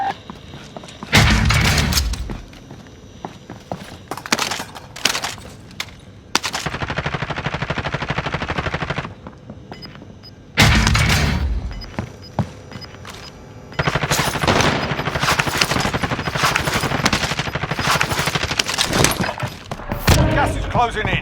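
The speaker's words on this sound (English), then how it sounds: "Receiving hostile fire." Rapid automatic gunfire and heavy single shots crack out in loud bursts during a Call of Duty Warzone match on Rebirth Island, with long sustained volleys and brief lulls, mixed with in-game voice callouts.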